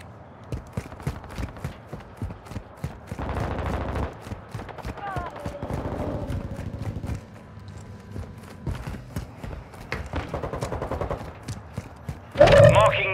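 Gunfire in the Call of Duty: Modern Warfare video game, sustained bursts of shots running through most of the stretch with a louder flurry near the end, mixed with game sounds and no talk.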